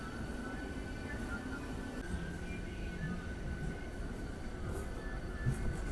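Delayed local train to Digha running out of Santragachi on a cold morning, a steady low rumble and hum of the moving carriages heard from inside, faint and continuous with no talk.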